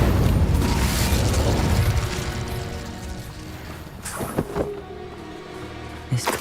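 The Incendio fire spell in Hogwarts Legacy erupts as a loud roaring burst for about two seconds, then fades into quieter crackling with a few sharp pops and thuds.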